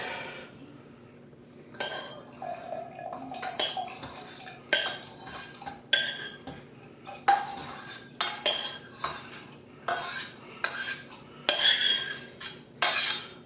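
A metal spoon clinks and scrapes inside a jar of pickled jalapeños, giving repeated close, bright taps at an irregular pace with soft breathing between them.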